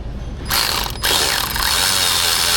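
Ratchet with a wobble extension working on an intake tube clamp in a tightly packed engine bay of a Ford F-150 2.7 EcoBoost, giving rapid, loud, close clicking runs, with a short pause between bursts and no talk.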